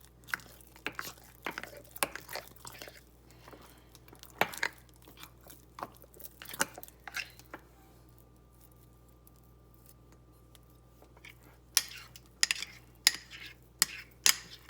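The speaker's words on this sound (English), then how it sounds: "stir rigorously. Incorporate air, mix it all together, no dry stuff left" A spoon stirs a sourdough leaven mixture in a bowl, giving sharp scraping clicks and sticky, squishy thuds in uneven bursts, pausing in a quiet stretch before quickening again, close and alone.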